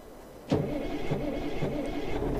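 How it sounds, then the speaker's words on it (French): A truck engine starts up in the American Truck Simulator game: a sharp crank and catch, then a steady idle with a few rhythmic low pulses, all fairly loud and close. "Tu vois quand je fais démarrer le moteur là?"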